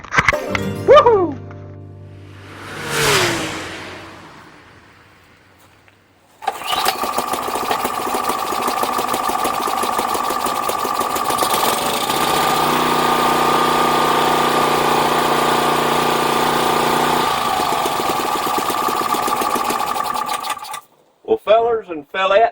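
An old Sportsman engine cranks with a few bursts, then catches and settles into a steady, even-pitched idle for about fourteen seconds before shutting off, with brief clatter at the end.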